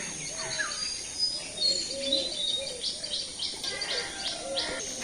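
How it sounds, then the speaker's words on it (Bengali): Birds perched in a coconut tree in a rural village call with scattered chirps and tweets, moderately distant and faint, over a soft outdoor background. "নারকেল গাছে অনেক পাখি বসে উড়াল দিল"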